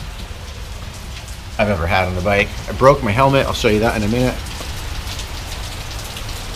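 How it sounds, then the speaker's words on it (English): Steady rain pours down in Orange County, Southern California, a constant close hiss of drops that runs throughout while someone talks over it for a few seconds. "We've got a downpour in Orange County."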